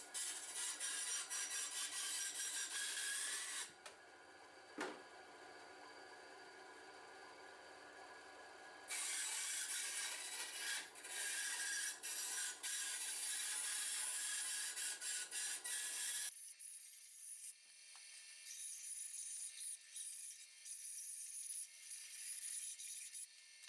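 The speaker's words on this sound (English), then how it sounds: "My cheap hobby bandsaw cuts the aluminium very easily." A cheap hobby bandsaw cuts through rigid aluminium sheet with a faint, hissing, rasping buzz. It comes in several long bursts separated by short pauses, with no voices.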